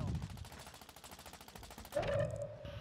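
Rapid automatic gunfire from the shooter game Warzone 2 crackles steadily for about two seconds, then gives way to a louder burst and a ringing tone, fairly close and alone.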